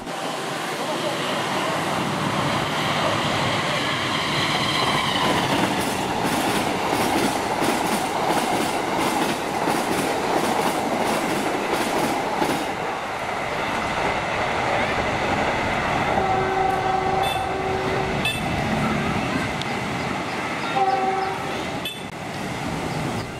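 A train hauled by a locomotive passes close by on an Indonesian line, a loud sustained rumble with a rhythmic clickety-clack of wagons over the rails and brief tonal squeals toward the end.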